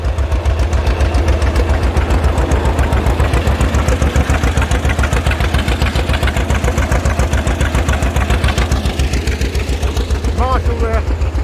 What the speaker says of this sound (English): Tractor parade here.